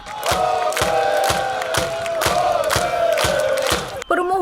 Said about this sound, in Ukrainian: На трибунах десятки вболівальників, оплески, вигуки та віра в перемогу футбольних команд.